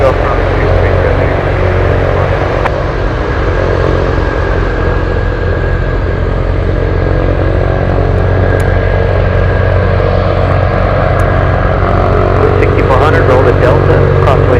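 A Cathay heavy jet powers up for takeoff on runway 33 at Anchorage airport, a loud, continuous broadband roar that holds steady throughout, with a faint radio voice underneath.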